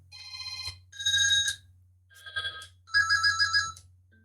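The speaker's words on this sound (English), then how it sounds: "Ring sounds, you can change the ring, and it's got a preview." Ringtone preview from a FlyingVoice FIP14G enterprise IP phone: four bright electronic ringing bursts with warbling tones, close and clear, separated by short pauses over a faint steady hum.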